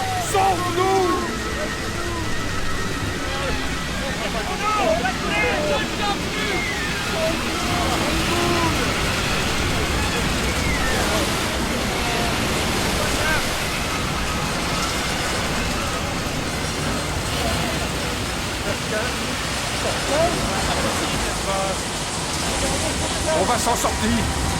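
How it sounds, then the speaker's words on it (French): A cartoon storm at sea with a steady roar of heavy waves and wind-driven water, continuous and loud, under frantic voices shouting in French. "Les vagues sont trop fortes!"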